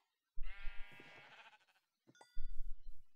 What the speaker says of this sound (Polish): Owce wszędzie.